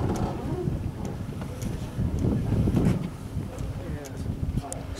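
Steady wind rushes past the microphone aboard the sailing barge Wyvenhoe during the Colne Race, a constant low buffeting with voices talking over it.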